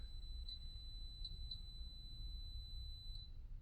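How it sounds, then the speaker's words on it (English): Several short high-pitched electronic beeps from a digital thermometer plugged into a Masterbuilt 1050 smoker, three close together then one more after a pause, over a steady low hum. "so 3 beeps"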